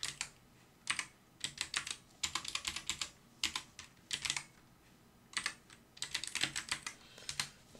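Keys clatter on a computer keyboard while filling in an Excel worksheet, in quick bursts of close, crisp keystrokes separated by short pauses, with no voice.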